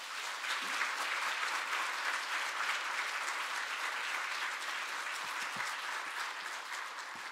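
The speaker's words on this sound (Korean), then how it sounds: "나오실 때 큰 박수로 맞이해 주시길 부탁드립니다" A church congregation at a special early-morning prayer service applauds to welcome the pastor, a steady, moderately distant wash of many hands clapping with no talk over it.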